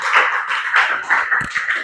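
Students clap for a presenting group in a classroom, a short burst of close, fairly loud hand claps with an uneven rhythm and no talking.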